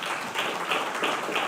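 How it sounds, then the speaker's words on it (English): Audience applause during a telecom company's full-year results announcement, a steady broadband wash of clapping that swells a few times across the short stretch, continuous and moderately distant, with no talk over it. "Let's clap for our CFIO"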